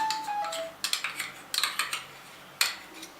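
Curd and cream being mixed together in a bowl for a chicken kalmi kebab marinade, with a spoon clicking and scraping against the bowl in quick bursts of clinks, close and fairly quiet, with no talk.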